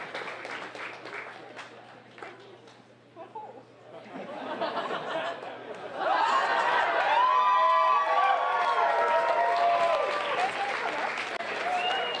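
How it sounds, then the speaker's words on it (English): A crowd at the 2019 Canada Open Boulder Nationals climbing finals applauds the finalists: murmur and chatter build into loud, sustained clapping and cheering with some laughter and whoops, a voice over the venue sound system carrying above the noise. "Massive round of applause for these ladies."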